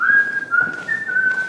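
A man whistles a casual, carefree tune as he strolls in, one clear steady note line with small pitch glides, close and alone without talk.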